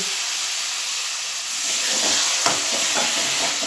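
Water from a tomato bowl hits sizzling, well-fried spice paste for a Rupchanda fish curry, giving a loud burst of hissing steam and bubbling that swells midway and keeps crackling, with no voices.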